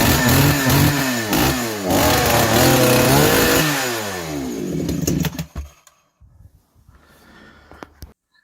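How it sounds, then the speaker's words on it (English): A chainsaw engine revs up and down in loud rising and falling bursts for about five seconds, then cuts out, leaving quiet clatter and faint rustling. "because the chainsaw still starts and it revs as normal"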